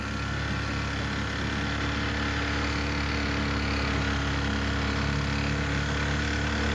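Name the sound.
outboard engine running on a boat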